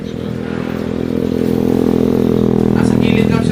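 Motorcycle engines drone steadily on a roadside, swelling gradually louder as they pass close by, with people talking over the noise.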